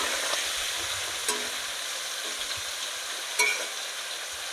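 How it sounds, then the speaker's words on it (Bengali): Hilsa fish frying in hot oil, a steady close hiss and crackle with occasional louder pops and light stirring sounds, and no talking. "ওদিকে মাছ ভাজা হচ্ছে"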